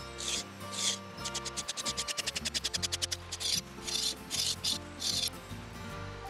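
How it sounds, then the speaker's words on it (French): Rotten wood on a damaged, decayed wooden beam being brushed and scraped away in close, bursty rasping strokes, with a fast run of short scrapes in the middle and a machine hum underneath, no talking. "il faut retirer tout ce qui ne tient plus à la brosse et plus au grattoir."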